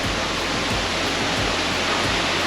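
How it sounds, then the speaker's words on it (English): A waterfall along the Leura Cascades walk rushes in a constant, dense hiss of falling water, loud and steady throughout with no voices over it. "Waterfalls are the ultimate white noise machine for the babies."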